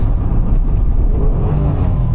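A 1991 Honda NSX engine revving hard in second gear, heard from inside the car as a loud, steady low drone filling the whole stretch, with no talk.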